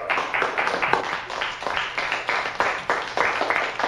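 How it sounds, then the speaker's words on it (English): A small group of people claps continuously in a rapid, uneven patter, close and fairly loud, with no speech over it. "Don't clap that."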